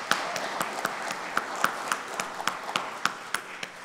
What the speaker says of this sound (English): let's just briefly have another round of applause for all of these performers